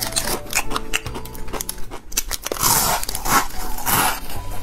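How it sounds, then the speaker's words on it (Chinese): Close, loud bites and crunches as a dry, fine-noodle instant noodle cake sprinkled with seasoning is chewed raw, irregular crisp snaps and grinding chews repeating over a few seconds with no talking. "它这个面饼呢是那种细的啊，特别好嚼，特别易嚼，特别适合干嚼"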